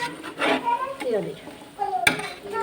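Duck meat sautéed and stirred in a pot, with close scraping and clanking of a utensil against the metal and a sharp knock near the end, while people talk over it.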